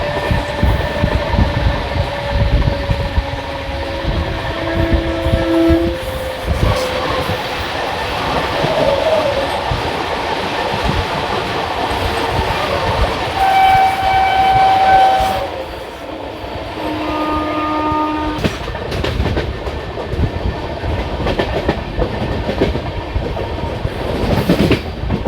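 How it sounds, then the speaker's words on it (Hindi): Mahamana Express train arriving at Rohtak station, a loud, steady rumble of rolling wagons with clattering wheels and brief tonal horn-like notes throughout, no talking. "तो दोस्तों अभी रोहतक पर अराइवल कर रही थी ट्रेन, वो थी महामना।"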